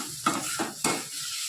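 Prawns fry in a pan, with a soft steady sizzle and a few sharp scraping stirs of a utensil against the metal.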